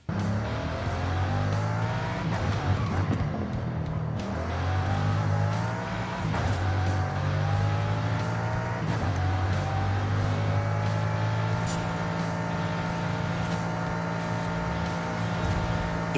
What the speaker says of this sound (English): Now the Bugatti.